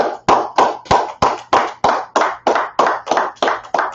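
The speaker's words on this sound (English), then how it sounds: "go ahead, clap it up, clap it up." Group of people clapping in unison at a brotherhood class gathering, about a dozen sharp, evenly spaced claps at a steady rhythm, loud and close, with no talking over them.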